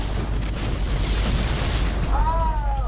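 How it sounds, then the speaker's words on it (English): A grenade goes off in Halo: Combat Evolved Anniversary as a deep, rumbling blast that rolls on for a couple of seconds, followed by a brief rising electronic whine from the game. "Throwing grenade, back up."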